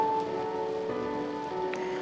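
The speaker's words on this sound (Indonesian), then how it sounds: "tiba-tiba rintik hujan turun." Light rain patters steadily on a forested mountain trail on Gunung Slamet, a soft continuous hiss of drops on leaves and brush with a few louder close drops, no voices.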